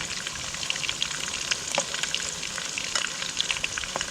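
Fish sizzles and spits in oil spiced with chilli, a steady bright crackle of frying with small popping bursts throughout, close and continuous, with no talking.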